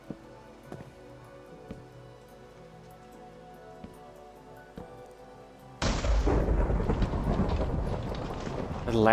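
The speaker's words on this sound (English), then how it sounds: "The loudest fucking lightning" Minecraft lightning strikes with a sudden, loud, rumbling thunder crash that swells and sustains after a stretch of quiet rain-like background with faint scattered ticks.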